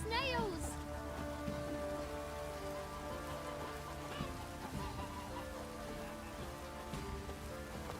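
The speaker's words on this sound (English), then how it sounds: "Looks like rain." Rain falling in The Witcher 3: Wild Hunt, a steady patter of drops on surfaces with a low hum of in-game ambience and faint tonal music beneath.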